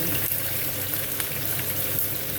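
Thai-style three-layer pork belly frying in a pan, a steady close sizzle and crackle of hot oil running without a break.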